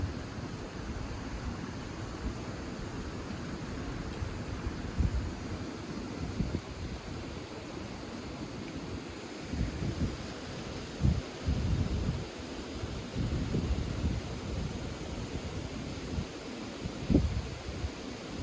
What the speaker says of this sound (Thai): นั่นลมแบบนี้